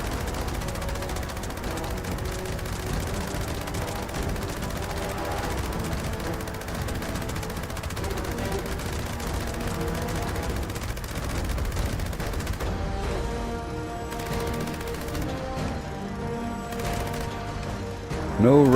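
Sustained automatic gunfire from the video game Fallout 76, a dense, unbroken rattle of rapid shots holding loud and even for the whole stretch, thinning slightly near the end.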